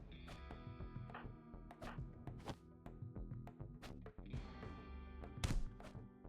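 Punches landing in the video game RimWorld, a series of soft thunks and thuds scattered irregularly over game sounds, with no talk.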